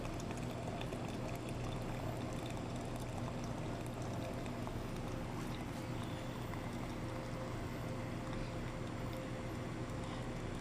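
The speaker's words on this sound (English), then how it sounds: "I'm dispensing the water into the pitcher" Bunn ICB coffee machine dispensing water into a pitcher, a steady rushing pour that runs unbroken for about eleven seconds with no talking.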